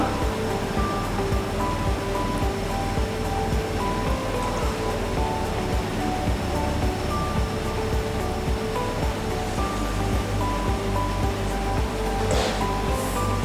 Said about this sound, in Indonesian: ini kita lanjut ke lapisan puding yellow yang kedua. Ini kita tuang.